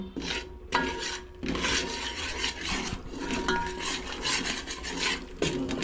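A spoon stirring a thick pav bhaji mixture with ghee in a cooking pan, giving a close, continuous scraping and squelching with rhythmic clinks of utensil against the metal pan.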